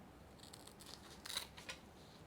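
Scissors make a few quiet, crisp snips through a philodendron plant stem, close and soft with nothing else around them.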